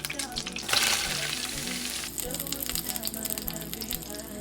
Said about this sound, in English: Let's start with frying our onion.